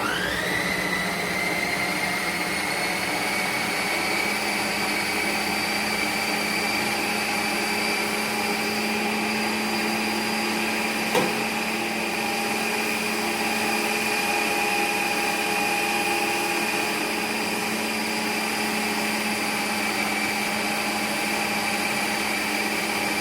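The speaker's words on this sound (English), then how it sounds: "Shut the machine and mix away." A mixing machine runs steadily as it works mince pie pastry, giving a continuous loud motor whine with a high-pitched hum that holds level for the whole stretch, with no voices.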